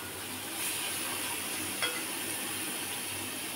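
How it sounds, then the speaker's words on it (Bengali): Ash gourd being stirred in a frying pan, a steady soft sizzle with a faint scrape of the spoon against the pan partway through. "একটু নাড়িয়ে দিই,"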